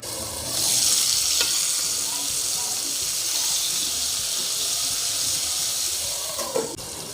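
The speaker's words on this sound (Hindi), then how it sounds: "तो आपने तकरीबन इसको घुमाते रहना है ग्रेवी के साथ।" Tawa chicken being stirred in gravy in a hot pan, a steady bright sizzle of frying with scraping stir strokes running throughout at close range, no talking.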